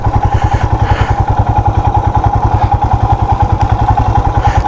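Royal Enfield motorcycle engine idling close by while being parked, a steady loud thumping single-cylinder beat with a regular, unbroken rhythm.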